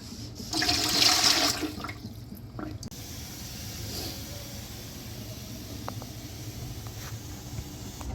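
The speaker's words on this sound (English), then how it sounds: "Now we got to fill the canner up with some water." Water runs from a tap into a home canning pot before canning green beans, a loud rushing pour at first that settles into a steadier trickle and fill sound, with a few faint clinks and drips.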